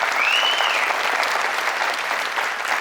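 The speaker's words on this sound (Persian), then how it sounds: "تشویقشان کنید" The studio audience of a Family Feud style game show applauds steadily in a dense, bright wash of clapping, with a faint cheer or whistle rising near the start.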